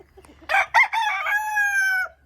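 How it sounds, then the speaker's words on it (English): Chickens on a homestead farm as two flocks are put together: one loud, close rooster crow with a drawn-out ringing tail, preceded by a couple of short choppy notes, with no talk. "I just put all the chickens in together, and they were doling it out."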